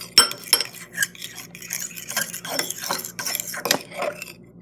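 Metal utensil stirring glue and borax slime in a container, with repeated close scraping clinks and wet squelches in an irregular rhythm, alone and fairly loud.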